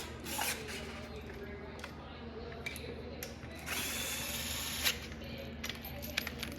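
Small DeWalt power drill driving and torquing bolts on a bed plate, whirring in several short close bursts over a steady background hum, with quiet voices around it.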